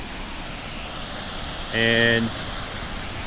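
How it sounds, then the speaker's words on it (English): Looking Glass Falls, a waterfall in Pisgah National Forest, roars with a steady, dense broadband rush that fills the whole clip, with a brief voice heard over it. "the flow of the water is very loud here"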